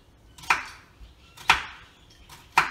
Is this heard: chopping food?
yes